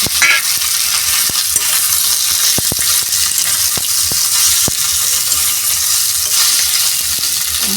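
Leafy greens sizzle and fry in hot oil with cumin and asafoetida, a steady loud crackling hiss broken by scattered sharp clicks of stirring against the pan, with no talking.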